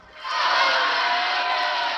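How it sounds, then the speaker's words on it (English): A crowd cheering as a sound effect on a 1977 Superman LP, a sudden swell of many voices that rises quickly and holds loud and steady to the end. "at that moment, a cheer goes up from the crowd"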